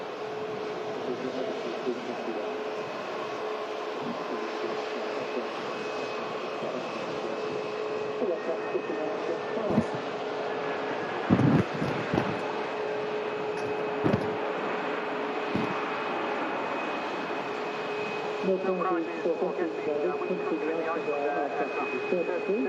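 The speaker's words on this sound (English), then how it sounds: "That aircraft touching down from Prague as the Icelandair heads back out" An EasyJet Airbus A321neo arriving from Prague touches down at Manchester Airport, a steady broadband jet roar lasting throughout with brief louder bursts midway, heard from a distance with some outdoor ambience.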